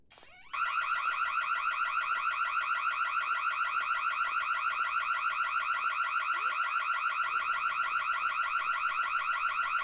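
An alarm blares in the Night of the Dead video game at an oil refinery, a loud, steady pulsing electronic tone that starts abruptly and repeats rapidly without pause, with no voices.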